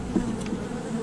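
Honey bees buzz steadily and close during a hive inspection, a continuous drone with no talking over it.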